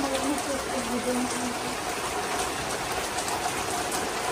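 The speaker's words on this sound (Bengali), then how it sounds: "আরে বৃষ্টিতে ভিজতেছো কেন?" Steady rain falls outdoors in a broad, even wash of hiss with soft patter, continuous and fairly close, while people talk over it.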